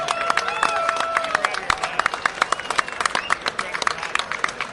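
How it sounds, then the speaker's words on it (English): Audience applause at a homebrew club night: dense clapping from a sizeable crowd, steady at first and then thinning into scattered claps, with some cheering and voices among it. "can I get a round of applause for Gary Glass"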